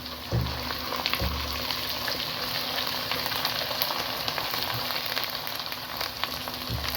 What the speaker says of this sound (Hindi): 1 कप मैंने ऑयल लिया है और 3 अदद प्याज हैं, इनको फ्राई करते हैं।